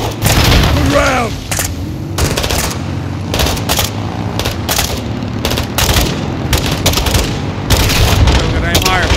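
A launcher fires and explosions go off during a video game combat mission, with heavy booms and bursts of gunfire repeating close and loud while voices shout over the battle.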